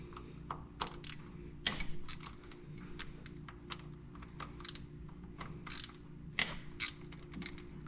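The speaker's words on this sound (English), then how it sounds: "This is a 10mm socket that fits these. We'll go ahead and pop them all loose." A 10mm socket on a ratchet loosens the DCT cover bolts of a Honda Talon side-by-side during a 100-hour service: close, sharp metallic clicks and ratcheting bursts come in irregular clusters over a low, steady background hum.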